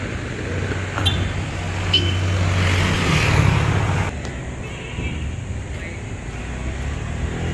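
Highway traffic passes close by while people walk along the roadside, a broad continuous road rumble that swells as a vehicle goes by, then settles to a steadier hum.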